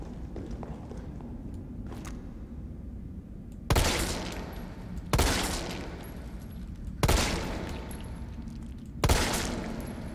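Gunfire in the video game Resident Evil 3 Remake: four loud, sharp shots with echoing tails spaced a second or two apart, following a quieter stretch of game ambience.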